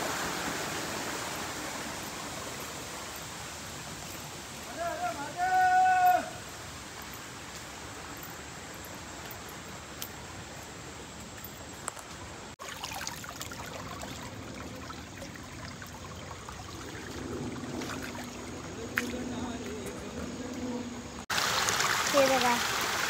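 A flowing stream runs continuously as a steady, broad rushing hiss outdoors, while people talk intermittently over the water.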